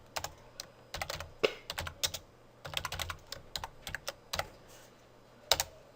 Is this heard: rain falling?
no